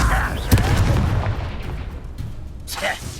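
Confringo fire blast spell exploding in Hogwarts Legacy, a sharp blast followed by a rumbling crackle, with a voice calling out briefly at the start and end.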